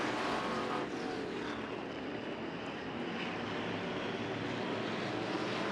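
Vintage and stock cars roar at the start of a 15-lap GOTRA race at an off-road dirt speedway, a loud, dense, continuous engine drone with no letup and no voices over it.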